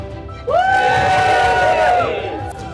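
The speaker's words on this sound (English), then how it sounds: "raise your glasses, and give a good cheer and a toast to the newlyweds, Jack and Becky." Wedding guests burst into loud cheering and whooping for a toast to the newlyweds, a sudden crowd roar that swells and holds for about two seconds before easing off.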